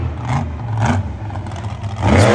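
The Vendetta monster truck revs hard at a Monster Jam stadium show in Atlanta, its loud engine surging in repeated bursts with clattering and whirring, climbing again at the end.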